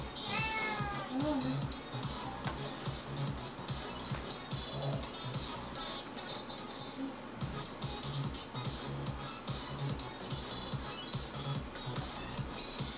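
A pet cat named Tuna meows repeatedly in short, rising calls scattered through a busy indoor background, with a person talking softly now and then.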